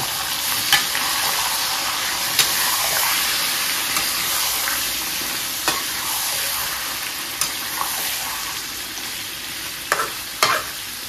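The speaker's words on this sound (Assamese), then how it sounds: "আৰু এইখিনি ধুনীয়াকৈ ভাজি নিছোঁ" Marinated chicken frying in a pan for chicken biryani gives a loud, steady sizzle close by, with occasional clacks of a spatula against the pan.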